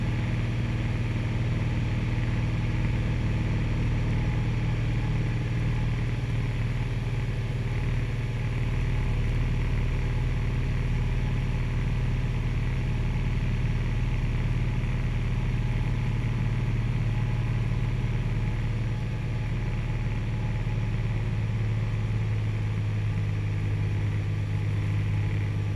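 A small aircraft engine drones steadily in flight near a runway, a loud, unchanging low hum inside the cabin with no talk over it.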